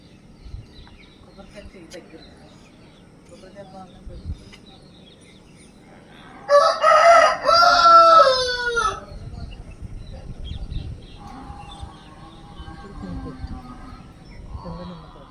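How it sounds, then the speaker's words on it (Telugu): A rooster crows loudly and close in a village for about two seconds, followed by softer clucking from chickens against a quiet rural background, with faint low voices now and then. "గేదెల అరుపులు, కోళ్ళు,"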